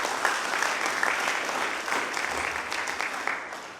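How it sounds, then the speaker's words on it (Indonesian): A church congregation at a Christmas worship service claps together in full, even applause for several seconds, with no talking over it. "Tepuk tangan dong untuk Tuhan."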